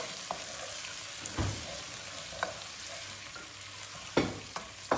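Tomato paste, red peppers and onions fried together in a pan, a faint steady sizzle broken by scattered scrapes and taps of a spoon stirring, with a louder clatter near the end and no voices.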